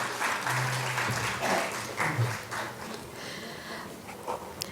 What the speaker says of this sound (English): Let's give a round of applause to all our dignitaries.